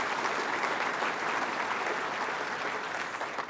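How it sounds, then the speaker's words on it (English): A crowd claps steadily and loudly, with dense, sustained applause and no voices on top. "Let's give him a round of applause also and thank him for his service."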